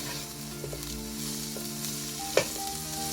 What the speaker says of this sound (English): Just stir them, saute them for some few seconds.